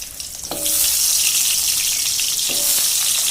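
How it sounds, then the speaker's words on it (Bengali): Ash gourd pieces drop into hot mustard oil, setting off a sudden loud, sustained frying sizzle with a couple of utensil clinks, close up and without talk. "একে একে চাল কুমড়াগুলো দিয়ে আমি লাল করে ভেজে নেব।"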